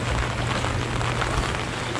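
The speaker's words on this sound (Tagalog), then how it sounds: "Non-stop din po kasi yung ulan" Heavy, steady typhoon rain pouring down without a break in Occidental Mindoro, a dense hiss with a low rumbling undertone throughout.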